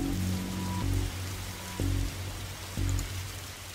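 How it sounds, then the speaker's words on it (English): Rain falls in the detective video game The Darkside Detective as a constant hissing patter, with low droning tones that cut in and out in a repeating pattern beneath it and no talking. "whenever you're standing around in this rain stops being fun for you"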